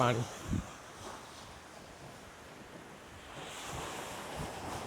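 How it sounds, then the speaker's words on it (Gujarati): Lake waves wash and break steadily close by, with gusts of wind buffeting the microphone and a brief murmur of voice at the start. "પણ તમે એના વેવ્સને એ જુઓ તમે કેટલું મોટું છે"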